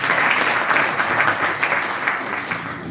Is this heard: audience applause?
yes